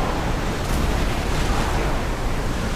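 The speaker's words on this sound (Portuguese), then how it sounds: "Que vento!" Strong wind blowing over the sea in a video game set on a rowing ship near Athens, a loud, dense, steady rushing gust with no voices.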